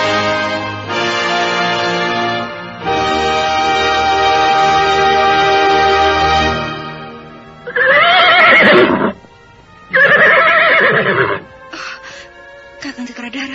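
A horse lets out several loud, drawn-out whinnies and neighs after a stone is thrown at it. The calls come in long bursts separated by short pauses, close and dominant, with no talk over them.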